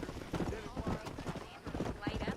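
A horse ridden in the video game Red Dead Redemption clip-clops along in a steady rhythmic gait, hoofbeats close and distinct, with a voice talking over them.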